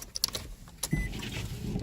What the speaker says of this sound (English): Let me turn the ignition now.